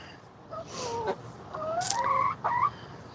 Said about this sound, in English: my duckies are talking